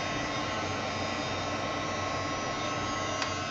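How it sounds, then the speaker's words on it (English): A household furnace runs loudly just beyond an open door, a steady, broadband roar like a jet plane that holds without a break throughout. "I have the door open and the furnace is like right there"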